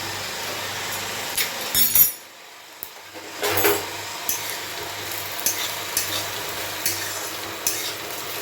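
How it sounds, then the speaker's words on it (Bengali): Coconut being stirred and fried in a pan while making upma, with a steady close sizzle under intermittent scraping and clinking of the stirring utensil, pausing briefly midway. "যতক্ষণ না নারকেলটা একটু ভাজা ভাজা হচ্ছে ততক্ষণ আমি এটাকে নাড়াতে থাকবো"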